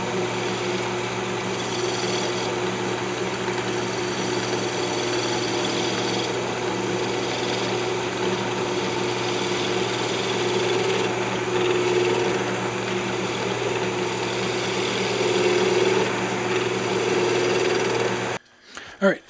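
A wood lathe spins a lamp blank while a skew chisel cleans up the surface, a continuous loud motor drone with scraping cutting noise throughout, stopping abruptly near the end.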